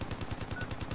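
Rapid automatic gunfire in the military shooter Project Reality, a steady burst of evenly spaced shots at moderate distance with no talk over it.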